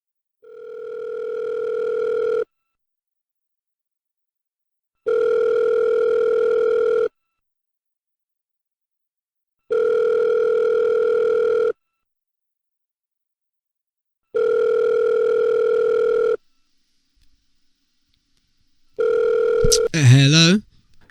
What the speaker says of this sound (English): we will dial the randomly selected local landline number and see who our lucky winner